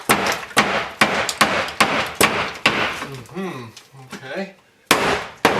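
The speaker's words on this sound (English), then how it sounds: "I've got to maybe see if I can hammer it out this side" Sharp hammer blows strike wooden subfloor repeatedly at a steady pace during a mobile home tear-out, loud and close, with a brief spoken word during a pause.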